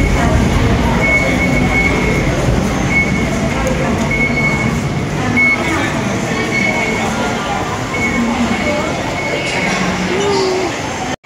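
Constant rumbling and rolling of a Bangkok Skytrain carriage between Saladaeng and Siam stations, loud and unbroken throughout with a faint squeal near the end and no talk.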